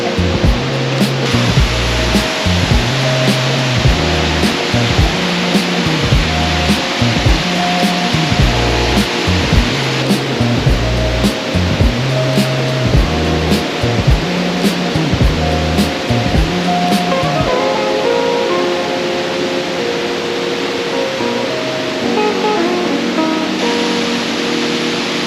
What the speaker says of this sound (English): I like this waterfall.